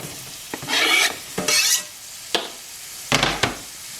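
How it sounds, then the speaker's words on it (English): Chopped onion hits a hot pan of melted garlic butter and sizzles loudly, with bursts of frying and stirring scrapes that come and go in short surges and brief clinks. "I'm going to add in our onion"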